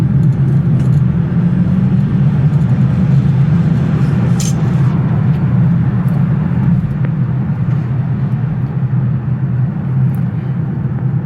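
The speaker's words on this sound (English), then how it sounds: "Great acceleration and pulled right up to 65 miles an hour." A Polestar 2 electric car accelerates onto the highway toward 65 mph, heard from inside as a continuous low road and tire rumble with steady cabin noise and no voices.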